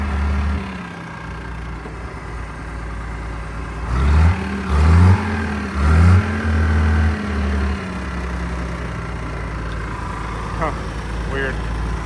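A Farmall 826 tractor's diesel engine idles steadily with a low rumble, briefly swelling louder several times midway, while people talk over it.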